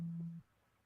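A phone's call tone sounds once as a single steady beep lasting under half a second, then cuts to quiet room noise.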